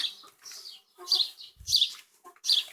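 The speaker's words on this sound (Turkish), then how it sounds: "Buradan tavukların kümesi burası." Close clucking and chirpy calls from chickens at their coop, several short bursts in quick succession with brief quiet gaps between them.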